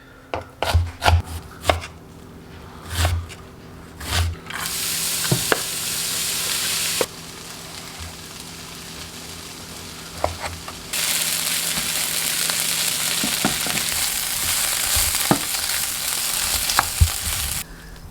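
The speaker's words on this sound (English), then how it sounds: "I'm gonna start with some caramelized onions" Onions being cooked down for caramelizing: sharp chopping knocks at first, then a loud sustained sizzle in the pan with occasional stirring clatter, and the sizzle swelling louder again partway through.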